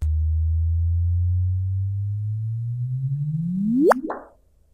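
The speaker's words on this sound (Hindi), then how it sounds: "ये वो सिग्नल है जो हमने कंप्यूटर सिमुलेशन से प्रिडिक्ट किया है" Computer-simulated gravitational wave chirp played as audio: a low steady hum that slowly rises, then sweeps sharply upward in pitch into a brief chirp and cuts off, alone and fairly loud.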